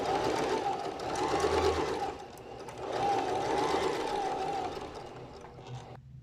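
A sewing machine runs steadily while stitching elastic onto a garment, a continuous close whirring motor hum with a brief dip midway before stopping abruptly near the end.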